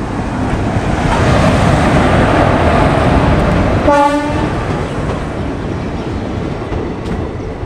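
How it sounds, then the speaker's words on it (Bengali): Intercity Express train 13466 rolls into platform 1 at Khaltipur on the Malda to Azimganj route, a loud continuous rumble with a short horn blast near the middle, fading slightly as it slows. "আমাদের ট্রেন চলে এসছে 1 নম্বর প্ল্যাটফর্মে খালতিপুরে।"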